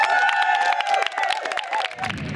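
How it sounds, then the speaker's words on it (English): Audience applause rings out at a UK gospel choir competition, a steady wash of clapping and some cheering lasting a couple of seconds, fairly loud, with a sustained tone under it and no speech. "Let's give ourselves a round of applause"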